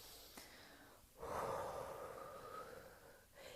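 A person takes a deep breath in and lets the air out, a faint, close airy inhale followed by a longer steady exhale in a quiet room.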